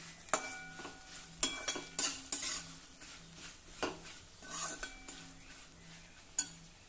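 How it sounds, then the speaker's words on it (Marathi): A utensil scrapes and clinks repeatedly against a pan while fried ivy gourd is stirred with garam masala and amchur powder, sharp metallic taps coming in an irregular rhythm over a soft sizzle, close up and with no talking. "हे मिक्स करून घेऊ."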